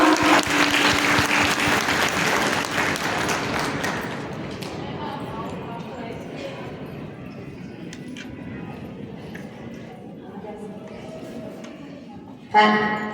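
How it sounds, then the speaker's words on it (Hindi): Loud applause welcomes someone speaker at a school function at Saraswati Balika Vidya Mandir, Shamli, dense clapping for about four seconds before fading into a quieter crowd murmur, with a sharp burst near the end. "जोरदार तालियों से स्वागत कीजिए दीदी का"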